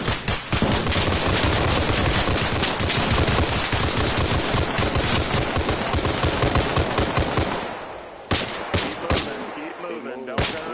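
Dense, continuous automatic gunfire rattles nonstop in an Arma Reforger military operation, loud and close, then breaks into scattered single shots near the end.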